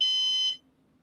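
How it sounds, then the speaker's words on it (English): A Synology NAS gives an electronic beep as it reboots, a loud, steady tonal burst of about half a second that cuts off into near silence, alone with no talk. "Okay, there's 2 beeps."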